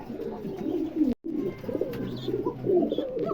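Silver Shirazi pigeons coo softly and repeatedly close by, low throaty murmurs continuing steadily with a brief gap partway through.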